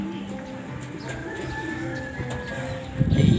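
Young racing pigeons coo softly and steadily outdoors, close by, with a continuous low murmur of several birds and a brief louder rustle near the end.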